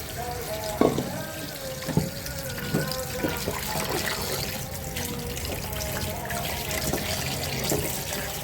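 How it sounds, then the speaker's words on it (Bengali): Chicken pieces are rinsed under a running kitchen tap, a steady close splash of water with a few sharper knocks near the start and sporadic handling clatter throughout. "তার মাংসগুলোকে ধুয়ে নিচ্ছি"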